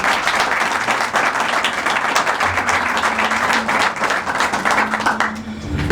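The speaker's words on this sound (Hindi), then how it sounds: "आइए खुदावंद के लिए जोरदार तालियां।" Church congregation at an Urdu-language service in Sohar, Oman, giving loud sustained applause, dense rhythmic clapping from many hands with a faint voice beneath, tapering near the end.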